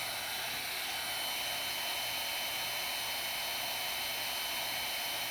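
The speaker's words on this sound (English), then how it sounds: "I hit it with my heat gun" A heat gun blows hot air over a junk-mail greeting card at a crafting table, a steady, close, even broadband whoosh that holds unchanged for several seconds with no talk over it.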